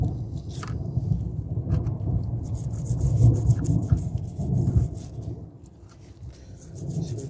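Low rumbling thunder rolls on and off over steady rain, swelling loudest in the middle, outdoors during a car repair on a Renault Espace 4.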